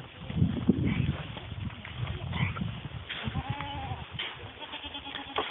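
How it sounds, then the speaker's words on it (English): Goats bleat in short wavering calls over a busy outdoor background with low rumbling and some distant chatter. "Oh, and they're very pretty goats."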